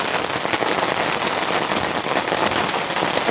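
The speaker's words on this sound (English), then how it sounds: "This is heavy rain." Heavy rain drums steadily on the roof of a compact van during a rainstorm, a dense, close, unbroken patter at constant loudness with no voices.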